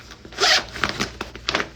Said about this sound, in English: This zips all the way up.